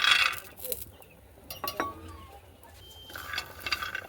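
Peanuts go into a dry pan for a dry chutney, giving a burst of light clinking and rattling against the metal, followed by scattered small knocks and a soft scrape.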